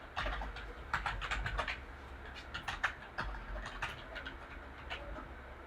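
Computer keyboard keys clicking in irregular bursts while someone logs in with a username and password, fairly close and clear with no talking.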